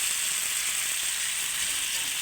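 Chopped tomatoes sautéing in a pan for a katla fish curry with potol and potato, giving a steady, even, close sizzle that runs unbroken throughout.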